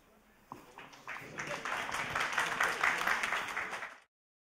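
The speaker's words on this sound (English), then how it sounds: "you guys were clapping" Audience applause at a live event, a discussion evening on art, swells after a sharp opening clap into sustained, dense clapping across the room, then stops abruptly.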